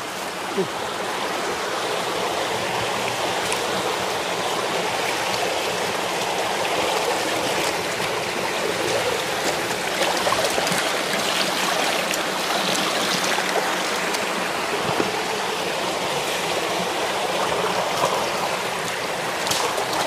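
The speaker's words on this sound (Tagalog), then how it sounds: "Ang sarap maglaba, unlimited ang tubig." Water runs continuously during laundry washing, a loud, even rushing and splashing that fills the whole stretch with faint scattered knocks.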